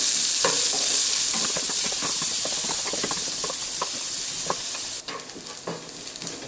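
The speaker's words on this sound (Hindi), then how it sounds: "प्याज को हमें अच्छे से भून लेना है" Chopped onions fry with cumin in hot oil, a hissing sizzle broken by repeated scraping stirs of a spoon in the pan, close up and easing slightly near the end.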